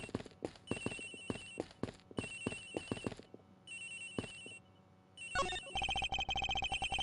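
In the Ace Attorney Investigations video game, a cell phone ringtone chirps in repeated bursts amid rhythmic footsteps, then grows much louder as a fast, steady pulsing ring toward the end.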